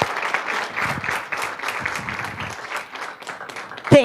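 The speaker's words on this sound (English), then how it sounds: "So let's give a warm round of applause for Dr. Murillo." Warm applause from a university lecture audience fills the room, steady dense clapping throughout with a brief louder burst near the end.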